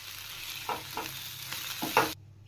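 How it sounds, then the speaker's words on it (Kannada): Black pepper and fennel seeds fry in a pan for village-style mutton sambar, a low steady sizzle broken by several short scraping stirs, close and unaccompanied, ending abruptly. "ಈಗ ಇದನ್ನೆಲ್ಲ ಫ್ರೈ ಮಾಡ್ಕೋಬೇಕು"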